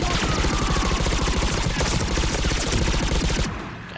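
Dense, continuous automatic gunfire crackles in a Mass Effect 3 multiplayer match, rapid overlapping shots forming a loud fusillade that eases off slightly in the final half second.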